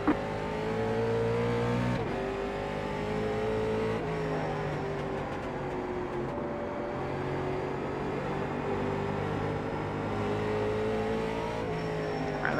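Late model race cars in iRacing at Irwindale pull away at the green flag, engines revving and climbing through gears in a loud, sustained roar with shifting pitch, no voices.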